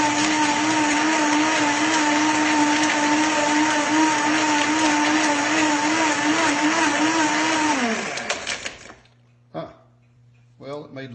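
WOQI commercial high-speed blender whirring milk and a chocolate bar, a loud steady motor whine that runs evenly for about eight seconds, then spins down and stops, followed by faint clinks and handling noises.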